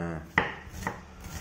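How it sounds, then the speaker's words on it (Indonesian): A large onion is finely chopped with a knife on a board, producing a few sharp, close taps over a soft background hum. "kita cincang kecil-kecil"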